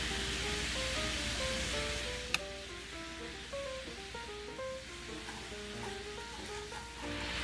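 Brown sugar stirred into boiling water to make caramel syrup for chocolate leche flan gives a steady sizzling, bubbling hiss with one sharp clink, under soft background music.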